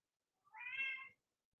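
A house cat lets out a single clear meow, close and moderately loud, against silence.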